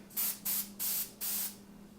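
An airbrush sprays paint onto a paper towel in four short, even bursts of hiss with brief pauses between them, close up and alone, over a faint steady hum.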